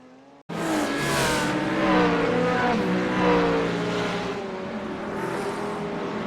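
Race cars in a sim racing league at Long Beach roar loudly and steadily with dense engine harmonics and tire noise, kicking in abruptly after a brief quiet lead-in and holding near and full throughout.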